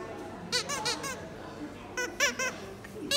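A squeaky toy from a surprise box squeaks in short rubbery bursts, a cluster of three or four squeaks, a pause, then another quick run of squeaks, fairly close and alone.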